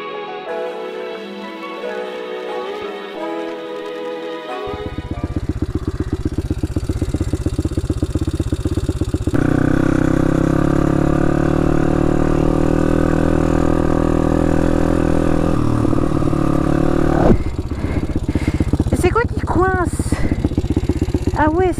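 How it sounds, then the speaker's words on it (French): A YCF supermoto dirt bike engine runs loudly and steadily, its rough rattling drone rising after a few seconds and holding, with a revving whine near the end. "T'entends fort le moteur, en fait."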